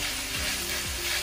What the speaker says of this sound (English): When you fry the cod initially, make sure that the temperature is on high.